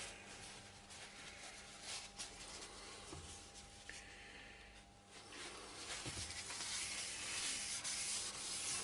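Steady rubbing and friction as wax finish is buffed onto a small turned ash wood bowl on the lathe, a continuous broadband hiss that grows slightly louder and brighter toward the end, with no talking.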